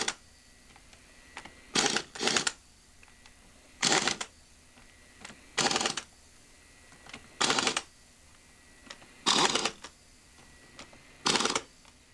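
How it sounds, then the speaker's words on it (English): A torque wrench tightens the final drive cover fasteners on a BMW K1200LT motorcycle, giving short ratcheting bursts, often in quick pairs, at a steady interval, close up and alone. "we'll come back with the torque wrench and torque these fasteners"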